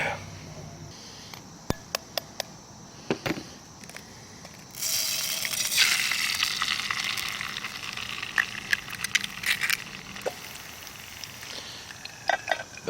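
Spam and egg frying in a hot oiled pan on a camp stove. Quiet scrapes and clicks give way to a steady, louder sizzle about midway, with sharp ticks and pops through it.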